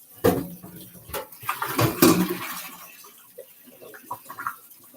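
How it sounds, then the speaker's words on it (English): Cold tap water runs over freshly drained hot macaroni in a steaming pot, splashing noisily for a few seconds and then easing to a softer trickle with scattered clinks, while a voice talks over it. "So I'm going to just run some cold water and get rid of this hot water here"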